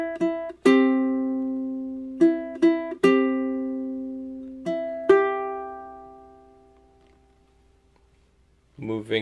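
Fingerstyle ukulele playing the first bar of Brahms' Lullaby: seven clear plucked notes in an unhurried rhythm, each ringing out and decaying, with a lone voice starting up near the end.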